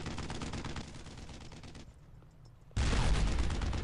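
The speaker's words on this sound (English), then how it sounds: "Shoot at the tank!" Rapid automatic gunfire in the World War II shooter Brothers in Arms: Earned in Blood rattles in dense continuous bursts, dips briefly, then surges louder and heavier, with no voices over it.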